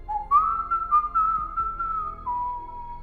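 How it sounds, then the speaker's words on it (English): A person whistles an eerie tune, a clear, close melodic line of held and sliding notes lasting about three seconds against near silence. "Jack hears the stranger whistling an eerie tune, which sends shivers down his spine."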